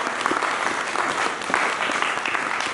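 A church congregation claps loudly and continuously in praise, a thick crowd of hands creating a steady, close roar of applause throughout.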